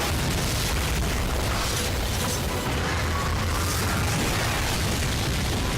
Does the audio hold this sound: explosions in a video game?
yes